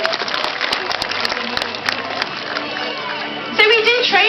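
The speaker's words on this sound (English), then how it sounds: "If everybody can give our sea lions a round of applause" Audience at a Blackpool Zoo sea lion show clapping and cheering in a broad, fairly loud burst, with an amplified voice carrying over the crowd and a brief swell of shouts near the end.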